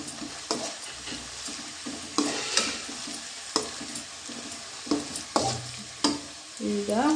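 Onions fry in hot oil until brown for egg masala, a steady sizzle broken by repeated scraping stir strokes at irregular intervals, close and moderately loud, with no voices.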